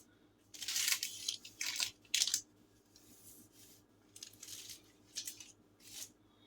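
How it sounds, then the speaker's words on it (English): Scissors snipping through parchment or paper while lining a pan for a gingerbread roll cake, a series of short crisp cuts in bursts, close and fairly quiet, with no talking. "Sometimes it's just best to use scissors."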